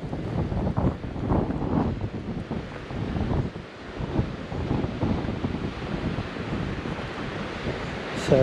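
Ocean waves rolling onto the beach at Point Reyes National Seashore, a continuous rushing wash of surf mixed with wind buffeting the microphone, loud and close, with no one speaking.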